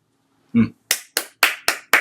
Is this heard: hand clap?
yes